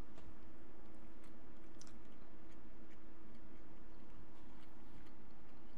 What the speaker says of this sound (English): And I'm just going to taste the ham.